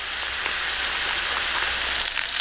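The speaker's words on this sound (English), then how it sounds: "Something sizzling." Meat sizzles and spits in a pan on a vintage Coleman stove while cooking outdoors in the bush, a constant crackling hiss with scattered pops, close and unbroken.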